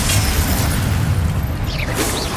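A Confringo blasting spell from Hogwarts Legacy erupts in a loud, rumbling boom that sustains as a heavy low roar for a couple of seconds, with a brief sharp pop at the very end.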